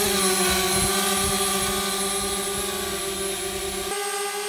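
A DJI Spark drone hovers close by, its small motors giving a steady, high-pitched whine with a constant tonal hum that shifts slightly near the end.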